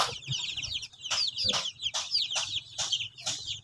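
A brood of three-week-old chicks on a farm chirps in quick, high bursts, about eight rapid calls in a steady rhythm, close by and fairly loud with no talking.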